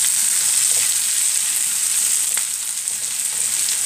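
Chicken liver fries in a pan, a steady, close hiss of sizzling fat that carries on without pause, with a few faint pops and stirring scrapes and no voices.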